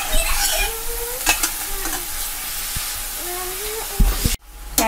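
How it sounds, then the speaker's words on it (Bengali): Tilapia gravy with ketchup is stirred in a pan, a spoon scraping and clinking in short strokes over a steady sizzle, close and moderately loud. "প্রায় হাফ কাপ কেচাপ দিয়ে দিলাম। জাস্ট এবার একটু নেড়ে দেব।"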